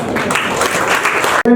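A live audience at a Marathi entrepreneurship event claps in a dense, steady burst that stops abruptly near the end, followed by a brief moment of other sound.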